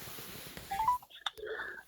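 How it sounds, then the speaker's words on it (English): Telephone keypad tones sounding as a number is dialed, a quick series of short beeps over faint background hiss, followed by a brief click and a soft burst of noise. "Ringing up Graeme Kenna."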